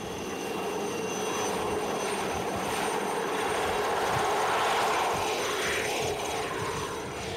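Steady, loud engine drone of a helicopter overhead on Réunion Island, a continuous broadband roar with a low rumbling thrum, no voices.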